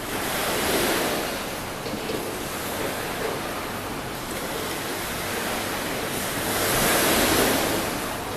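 Ocean surf in Barbados, heard from a balcony, is a continuous wash of waves that swells louder near the start and end, mixed with wind noise, and no one speaks.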